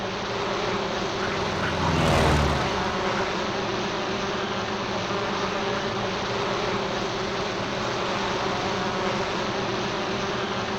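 Propeller crop duster plane in an online fantasy game drones steadily throughout, with a brief louder swell early as it passes close, then a constant buzzing hum alone with no talk.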